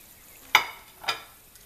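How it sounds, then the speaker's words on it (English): Wonton chips sizzle in hot frying oil, two sharp crackling bursts a half second apart that quickly fade to a low hiss. "Just how fast that one plumped up and started sizzling."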